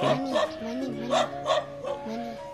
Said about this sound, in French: Et là, c'est le chien qui nous fait la fête.